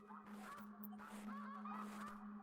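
Snow geese honk repeatedly in theHunter: Classic, calling as a flock passing overhead, the honks faint and distant over a steady low hum.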